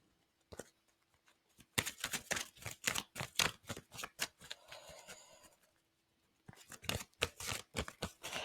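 Oracle cards being shuffled by hand. Rapid, close, crisp riffling and slapping bursts come in two runs separated by a brief quiet gap, with no talk.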